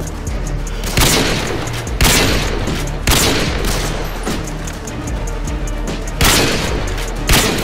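Loud, booming gunfire in Call of Duty Modern Warfare 2 or Black Ops 2, a wallbang shot through a wall, heavy bursts arriving roughly once a second over a constant rumbling background.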